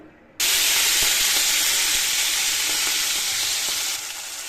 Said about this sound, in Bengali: চলো, তেলটা গরম হয়ে গেছে, এবার আমি গুগলিটাতে ভালোভাবে ভেজে নেবো।